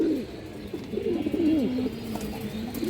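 Pigeons cooing up close at a pigeon seller's stall, soft throaty rolling coos repeating steadily over a faint background hum.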